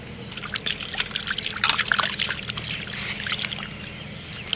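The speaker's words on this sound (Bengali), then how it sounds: "সবগুলো ইলিশ মাছ আজ ছাড়িয়ে নিয়েছি এবার ভালো করে ধুয়ে নেবো" Water splashing and trickling as a batch of cleaned hilsa fish is washed by hand in a village kitchen, a steady close wet sloshing throughout with no talk.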